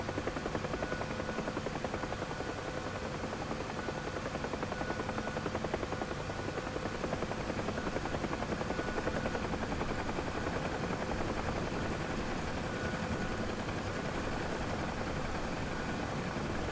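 Steady, dense thump of a UH-1H Huey's rotor and turbine inside the DCS flight simulator, a continuous close drone holding at constant loudness throughout with no voices over it.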